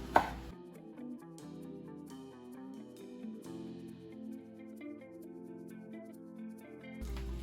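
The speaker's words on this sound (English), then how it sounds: "I'm going to cut these lemon pieces and put it on the bottom of our pan" A knife cutting lemon pieces on a cutting board, with soft, quiet chops spread through the clip under background music.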